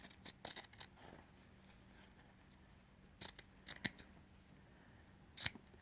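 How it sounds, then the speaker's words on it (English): Fabric scissors snipping through quilt pieces of half square triangles, a few quick close crisp cuts in clusters with quiet gaps between, no talking. "My scissors, and I'm going to cut between."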